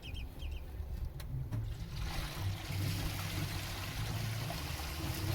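Dark black waste water rushing out of a full RV holding tank through a drain hose, a steady gushing flow that starts after a couple of seconds and continues strongly, close by with no talk.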